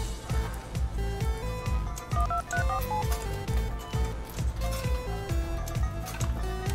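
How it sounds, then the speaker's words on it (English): Telephone dialing in the video game Party Hard: a quick run of electronic keypad tones rising and falling in pitch over a thumping, rhythmic party beat. "I'm gonna make a phone call."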